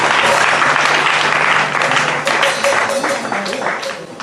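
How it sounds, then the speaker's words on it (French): Church audience at a Mère en Prière foundation prayer gathering breaking into loud, sustained applause and cheering that gradually tapers off, a voice briefly heard amid the clapping. "Vous pouvez vous acclamer."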